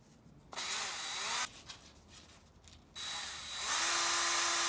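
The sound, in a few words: sanding a wooden chair spindle with 400 grit sandpaper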